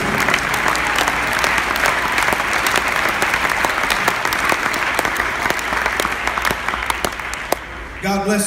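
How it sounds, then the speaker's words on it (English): A church congregation claps hands together during a worship service, a dense, steady wall of applause that holds for several seconds before thinning out near the end. "Would you clap your hands with expectancy?"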